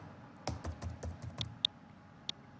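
A handful of computer keyboard keystrokes tap out irregularly at close range, quiet and crisp, with a couple of sharper clicks near the end and no talking.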